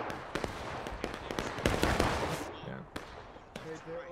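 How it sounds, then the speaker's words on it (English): Musket volleys in the Civil War game War of Rights, a scattered string of sharp cracks and pops from varying distances over a steady background rumble, with brief voice chatter. "They're doing run out volleys on us on this left side."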